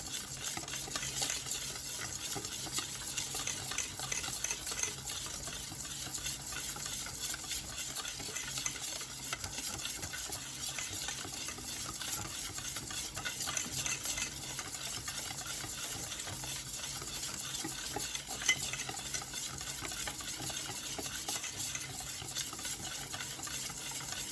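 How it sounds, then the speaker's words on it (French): Gluten-free, lactose-free crêpe batter being whisked in a bowl, a faint, steady, rapid scraping rhythm that continues unbroken for the whole stretch. "Bien mélanger afin que toute la farine soit incorporée, qu'il n'y ait pas de grumeaux."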